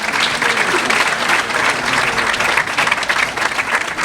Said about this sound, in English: Can we give a round of applause to the chairperson, Jeannie Hikus?